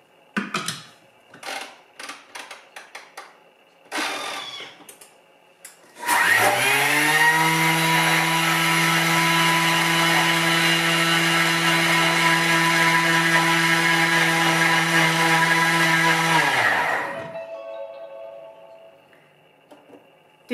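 A Thermomix TM5 grinds 160 grams of sugar into powdered sugar at speed 10, starting after a few short clatters and bumps with a loud, sustained high-pitched whine for about ten seconds before spinning down.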